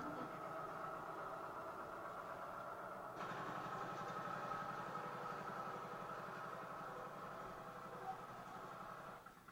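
A Polish tractor engine idles steadily at a distance, a low rhythmic chugging hum that stays even throughout, with a slight shift in tone partway.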